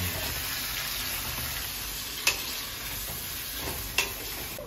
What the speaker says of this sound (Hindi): देखो आलू और प्याज फ्राई हो चुका है।